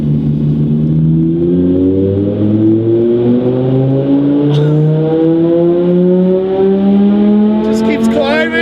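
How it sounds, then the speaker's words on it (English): A supercharged Audi R8 on a dyno pull roars loudly and steadily, its engine pitch climbing smoothly through the revs with a supercharger whine layered on top, close and sustained throughout. "we're doing a dyno pull on a supercharged Audi that they have in here right now"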